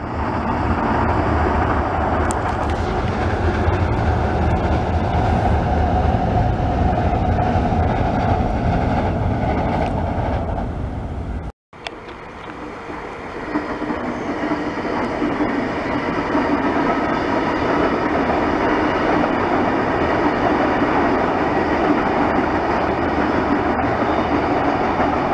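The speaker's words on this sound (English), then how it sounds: "And Oscar crossing the bridge." Sydney Oscar electric train crossing the Meadowbank rail bridge, a loud continuous rumble of wheels and clattering rail joints that briefly cuts out before the steady roar resumes, close by, with no talk.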